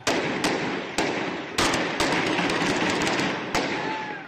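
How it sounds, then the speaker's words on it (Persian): Sharp, loud cracks of gunfire go off repeatedly in the streets of Susangerd during a crackdown on protesters. The shots arrive at an uneven pace over a constant wash of crowd and street noise. "تنین دوباره صدای گلوله در خیابان ها."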